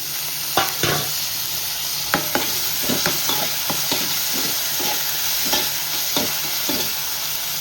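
Tomatoes frying with onion, ginger and garlic for chicken biryani, a constant hissing sizzle punctuated by regular spoon scrapes and taps against the pan.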